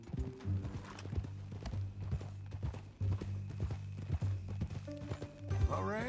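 Horse hooves in Red Dead Redemption 2 clip-clop at a steady walking rhythm, close and clear, with soft mechanical creaks and a brief voice near the end.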